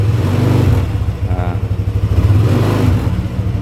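Yamaha Nmax scooter engine fitted with 1500 rpm Daytona clutch springs, running nearby with a steady low drone that pulses and surges in brief revs.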